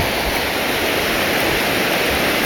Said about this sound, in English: And the waves that come in warm water.